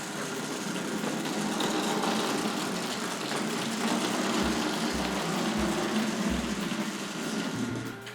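Tri-ang R.358 Davy Crockett model locomotive running with its body shell off, a steady close whirring hum with fine rattle and faint low thumps, no voices.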